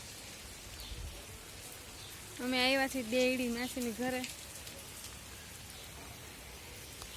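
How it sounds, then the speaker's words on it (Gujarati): Steady rain falls in a constant wash, with a person speaking briefly partway through over the downpour. "એકદમ વરસાદ ચાલુ જ છે ચાલુ ને ચાલુ"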